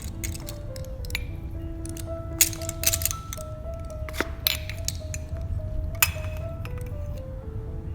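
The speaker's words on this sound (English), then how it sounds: "Break 1 egg into a mug" An egg cracked into a mug, with sharp clinks and taps against the ceramic plus a brief squishy crack, over a low steady background hum with tonal music.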